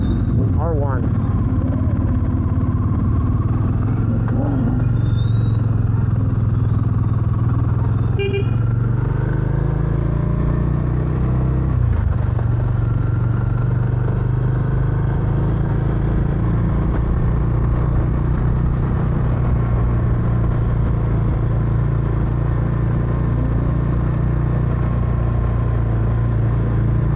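A Bajaj Dominar 400 motorcycle climbs a rough rural hill road in the Philippines, its engine holding a steady, loud drone for the whole stretch with slight shifts in pitch.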